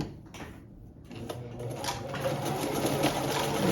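A vintage sewing machine runs steadily through its widest zigzag stitch, a continuous close mechanical whir with rapid needle clatter that builds slightly in loudness, with no talking.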